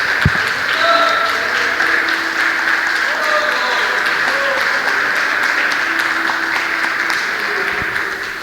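Church congregation applauding during an evening service: loud, sustained clapping from a large crowd filling the room, with voices calling out and some tonal background sound underneath.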